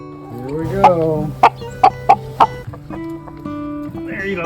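Backyard hens cluck steadily and loudly up close while being fed garden treats such as green beans and squash, with a run of sharp rhythmic clucks in the middle and softer murmuring calls around them.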